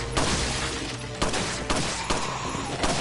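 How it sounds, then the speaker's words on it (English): Rapid, dense gunfire from the video game Resident Evil 4 on Professional Mode, loud bursts crackling in quick succession with no pauses between volleys. "You're gonna pull this thing out and start shooting."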